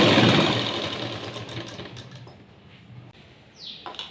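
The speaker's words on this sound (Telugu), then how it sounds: "శారీ పీస్ కూడా తీసుకొని దీని మీద పెట్టేసుకొని పావించు ఖర్చుతో స్టిచ్ చేస్తున్నాము" Sewing machine stitching a saree-fabric blouse piece, a loud close whirring run that fades over a couple of seconds into quieter clicks and short mechanical bursts.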